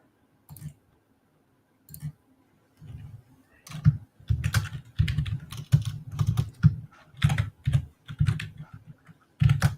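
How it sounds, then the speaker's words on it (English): Rapid typing on a computer keyboard, close irregular bursts of key clicks with short pauses between, growing busier midway and then trailing off. "You're doing a lot of typing."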